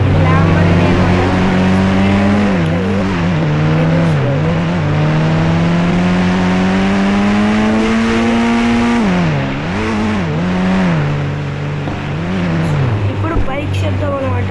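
Lamborghini engine in the Indian Bike Driving 3D video game, a loud, steady synthetic drone that rises gradually in pitch, then dips and swells in repeated revs toward the end, with a voice talking over it.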